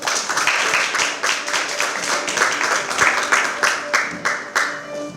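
Audience applause greets a speaker at the launch ceremony of the Youth Justice Party, a crowd clapping steadily with dense overlapping claps that fade in waves toward the end.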